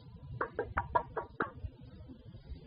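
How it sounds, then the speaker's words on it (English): A run of about six quick knocks on a house window, fairly soft and hollow, followed by quiet. "I turned around when I heard a knock at the window of the house."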